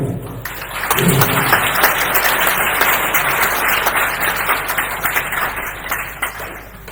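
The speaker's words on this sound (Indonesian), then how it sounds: "Tepuk tangan." A crowd applauding steadily, many hands clapping together in a dense, continuous wash that holds for several seconds without a break.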